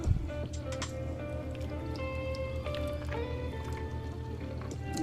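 Seafood boil sauce pours and drips over a pile of seafood, with a steady close-up wet squishing and splashing that runs the whole time and no voices.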